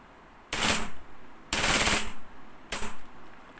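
A WE IRex airsoft gun firing full auto in three rapid bursts, each about half a second to a second long, loud and close, with short pauses between them.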